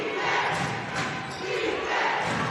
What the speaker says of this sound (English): the Whitehorse crowd now gets into it with a defense chant